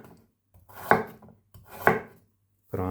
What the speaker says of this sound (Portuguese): o japonês gosta de cortar os legumes desse jeito assim, pelo menos a cenoura